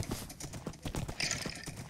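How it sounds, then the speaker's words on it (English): A horse gallops in Minecraft, its quick, evenly spaced hoof clip-clops repeating close and fairly soft, with a brief higher whinny-like sound partway through. "My horse is fast."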